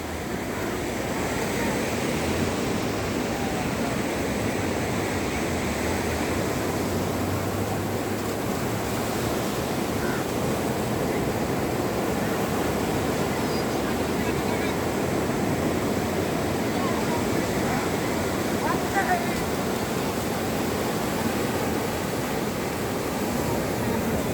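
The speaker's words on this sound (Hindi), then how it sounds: "तो आप सबने देखा कैसी लहरें मारती हुई समुंदर होता" Sea waves wash onto the beach at Juhu Chowpatty early in the morning, a continuous broad roar of surf with steady wind noise and no distinct individual breaks.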